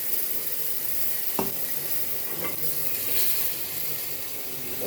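Water poured into a hot frying pan while cooking French toast gives a steady, close hiss and sizzle, with a few faint clicks over the continuous crackle.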